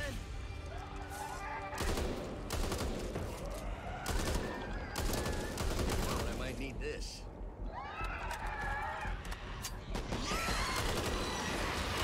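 Gunfire from the Back 4 Blood video game, bursts of shooting in a busy mix of game effects, running continuously and loud, with players talking over it throughout.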